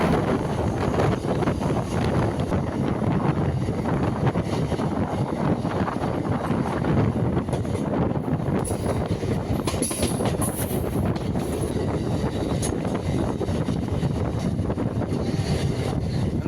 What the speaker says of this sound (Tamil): அரக்கோணத்துலேருந்து மெமு எக்ஸ்பிரஸில் போயிட்டுருக்கோம்